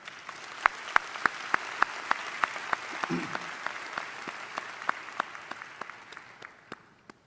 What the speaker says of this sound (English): give a round of applause to thank them for their unwavering support